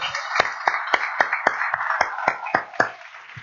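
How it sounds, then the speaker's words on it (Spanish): A church congregation claps in a steady, even rhythm, with about a dozen sharp, evenly spaced claps in quick succession. "démosle un aplauso al Señor."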